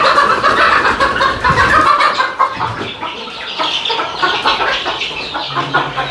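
Native country chickens cluck steadily as a flock at close range, with overlapping calls and no pauses; no one speaks.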